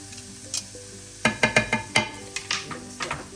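Garlic cloves fry with translucent onions in a pan, giving a low sizzle broken by a quick series of sharp stirring clicks and scrapes close by.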